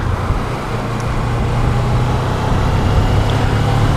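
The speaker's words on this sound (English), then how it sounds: "A lot more traffic on the road now." Road traffic passes as a continuous low rumble of cars and other vehicles, steady and fairly loud throughout, heard outdoors beside a Suzuki GSX250R motorcycle with no talking.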